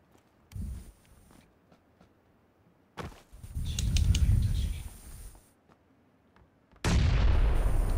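Grenade explosions in PUBG, several heavy booming bursts with rumbling tails separated by quiet gaps, the last one loud and sustained to the end.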